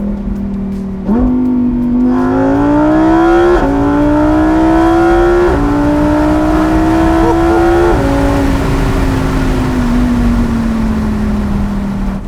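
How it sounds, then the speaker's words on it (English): A Lamborghini Huracan V10 supercar on an empty road in Rajasthan, its engine loud and close as it climbs through several gears, each rising howl cut by a brief shift before settling into a steady drone. "on empty roads in Rajasthan with a V10 engine singing behind your ear."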